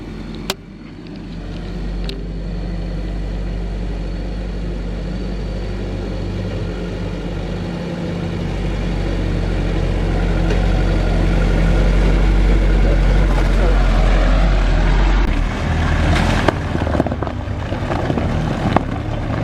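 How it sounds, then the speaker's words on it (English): A jeep pulls away over a rough mountain road on the Manaslu trek, its engine a loud, close, low rumble that swells and holds, with wind buffeting the microphone and a few rattling knocks near the end. "that's the Jeep leaving behind me"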